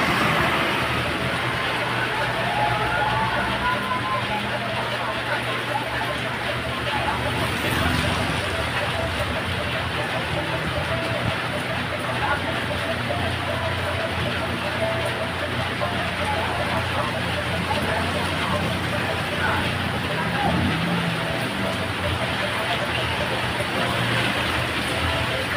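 Steady rain falls in Banlat, Tandang Sora, Quezon City, a continuous broadband hiss that holds evenly for the whole stretch, with faint traffic rumble and distant background murmur underneath.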